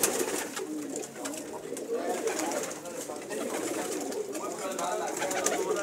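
Pigeons coo steadily on a pigeon keeper's old rooftop loft, a dense chorus of soft, overlapping calls heard close by, with faint talk underneath.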